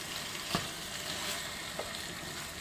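Fried stuffed peppers cook in a pan with a tea glass of water added over low heat, a steady, dense sizzle with a couple of faint pops.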